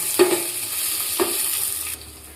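Fenugreek seeds sizzling in hot oil with ginger for kadhi pakora, a steady close crackle broken by two distinct scrapes of a spoon stirring the pan.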